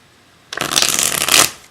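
A Dragon Tarot deck is shuffled in one quick, close riffle lasting about a second, crisp papery flutter that ends in a short settling tail.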